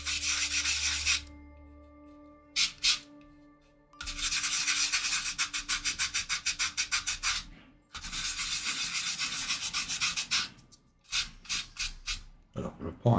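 Sandpaper rubs paint off a 1/35 scale FW190 A6 model aircraft in close, crisp bursts of rapid back-and-forth strokes, separated by short quiet gaps.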